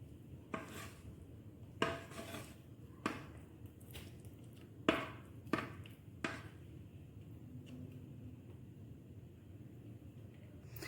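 A kulfi mould filled with kulfa ice cream batter is tapped on a kitchen surface, giving about seven sharp knocks that come in uneven pairs and singles over a low, quiet room hum.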